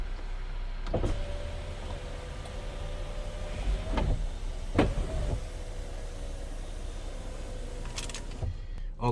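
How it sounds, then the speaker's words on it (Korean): A motor on a Kia Sportage NQ5 whirs steadily as the power sunroof opens during a new-car inspection, with a few soft clunks along the way, heard inside the cabin. "썬루프가 제대로 되는지."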